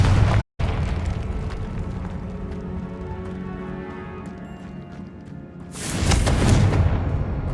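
A Confringo blasting curse in Hogwarts Legacy, a booming explosion that bursts in loud and near after a long rumbling stretch, then rolls on as a heavy roar.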